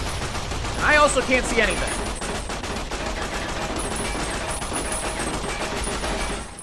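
Rapid bursts of machine gun fire from a giant weapon in Fallout: New Vegas, sustained and fairly loud, with a person talking over the shooting.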